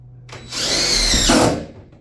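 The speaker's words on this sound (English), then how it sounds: "Go right into the aluminum and screw this in" A power drill drives a 3/4-inch self-tapping screw into the aluminum wall of an enclosed trailer, making one loud, close whirring burst that rises and stops after about a second, with no voices.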